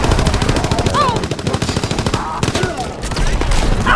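Rapid automatic gunfire rattles in Nazi Zombies, a World War 2 video game, loud and close with dense continuous bursts and brief gaps.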